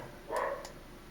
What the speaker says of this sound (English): Ignore that dog behind the curtain.